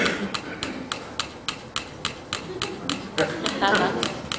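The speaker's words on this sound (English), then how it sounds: "the world's smallest metronome. I've set it on the fastest setting" Two tiny metronomes tick at their fastest setting, giving a rapid, regular stream of sharp clicks that slowly drift against each other, faint and close, with a hint of room murmur underneath.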